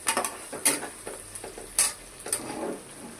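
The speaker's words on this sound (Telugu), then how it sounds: "ఇదిగోండి ఇప్పుడు ఇలా ఫ్రై అయితే చాలండి. ఇది కూడా ఆనియన్ కూడా ఫ్రై అవుతుంది కదా." Onion frying in oil in a pot for mutton curry, with salt added, heard as a soft background sizzle broken by several sharp clinks and scrapes of a spoon stirring against the pan.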